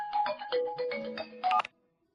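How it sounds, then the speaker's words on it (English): A phone rings with an incoming call, playing a loud melodic ringtone in a steady rhythmic pattern of tones for about a second and a half, then cuts off abruptly into silence. "you have a call from an unknown number"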